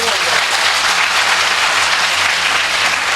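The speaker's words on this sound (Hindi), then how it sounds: "एक बार ताली बजार बताओ तो" Steady, dense applause from a live audience at a Mewari-language stage comedy show, loud and sustained across the whole stretch with no pause.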